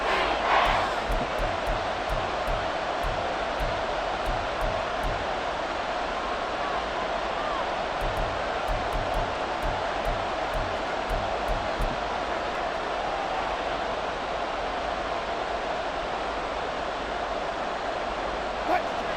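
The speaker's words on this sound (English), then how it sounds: "This crowd doing all they can." Stadium crowd from the video game Madden NFL 24, a Chiefs matchup, rendered as a steady, dense roar that fills the whole stretch with little change, broad and washy like surf, with a brief swell near the start.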